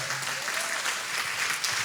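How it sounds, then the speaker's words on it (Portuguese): Congregation at a church service claps loudly and steadily for Jesus, a thick, continuous wash of many hands with no break in the short stretch. "Vamos aplaudir Jesus, bem forte."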